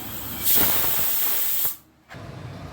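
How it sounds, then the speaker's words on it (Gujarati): A pressure cooker whistle releases a loud rush of hissing steam that stops abruptly, leaves a short gap of quiet, then a softer hiss resumes. "पछी पाणी नाखीने 4 सीटी थवा देवुं"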